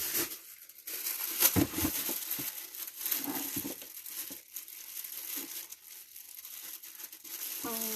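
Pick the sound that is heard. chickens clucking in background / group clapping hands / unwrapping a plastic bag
unwrapping a plastic bag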